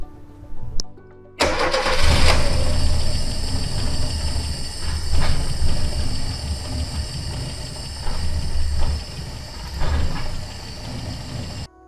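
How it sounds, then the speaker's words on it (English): A 1979 Opel Kadett C with the 1.2 engine cranks briefly after a pause, then catches and runs on at a loud, steady, rough idle with occasional blips, close by with no talk. "So as you could see, the engine runs."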